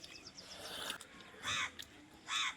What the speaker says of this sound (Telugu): కాకులు గోల ఎక్కువ పల్లెటూళ్ళలో